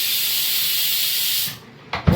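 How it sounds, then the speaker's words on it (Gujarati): A pressure cooker whistle releasing steam in a home kitchen while dhokli shaak cooks, a steady loud hiss lasting over a second before cutting off, followed by a brief second burst of venting. "તો કોઈ કેમ કુકરનો સીટી કેમ વાગે?"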